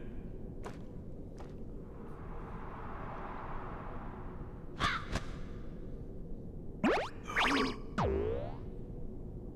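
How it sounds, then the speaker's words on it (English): A bird caws in the video game Kingdom Hearts II, a few sharp calls and springy game effects popping out late over a steady background hum, with scattered clicks earlier. "It's a bird."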